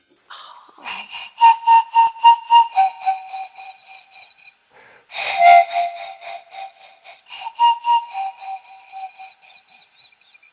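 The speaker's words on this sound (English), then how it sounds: "there's this baby pan that's made out of feather quills" A small pan flute made of feather quills plays breathy, airy notes in short repeated bursts, with a brief pause midway before the playing resumes, clear and close.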